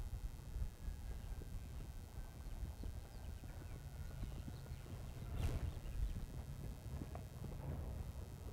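Hooves of a pair of horses clip-clopping steadily during pairs carriage driving, a faint, continuous rhythmic patter at a distance with a soft whoosh of wind over the microphone.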